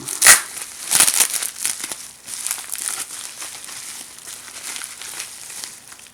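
Bubble wrap and tape being pulled off a small bag of parts, close crinkling and crackling with a few sharp rips early on, fading to softer rustling.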